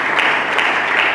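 A church congregation claps in praise of Jesus Christ during a sermon, with dense, steady applause filling the room at close range and no voices.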